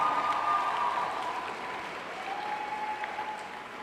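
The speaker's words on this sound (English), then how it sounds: "A round of applause, please." An audience claps steadily for teachers at a school's Teachers' Day celebration, a dense, even wash of applause lasting the whole stretch with a faint tonal hum running underneath.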